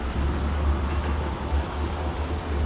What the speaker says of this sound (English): You can still see the rain outside, and you can hear it, like, pattering.